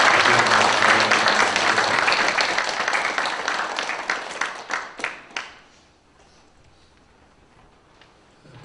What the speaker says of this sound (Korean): 박수로 우리 축복하고